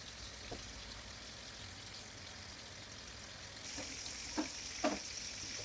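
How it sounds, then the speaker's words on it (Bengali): Lamb chops frying in hot oil for a lamb chop gravy, a soft, even sizzle that grows a bit louder near the end, with a few faint clicks and no talking. "এই গরম তেলের মধ্যে আমি সবগুলো ল্যাম্ব চপ দিয়ে দিচ্ছি"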